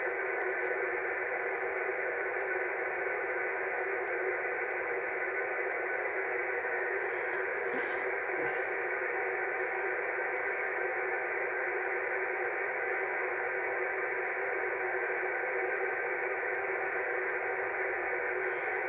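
Steady hiss of amateur radio receiver noise on the 10 metre band, a constant band-limited static with faint brief blips, quiet and unchanging throughout with no voices.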